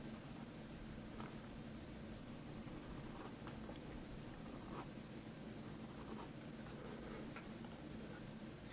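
Pen and ink crosshatching on paper: faint, scattered scratchy strokes, each quick and light, barely rising above a steady background hiss.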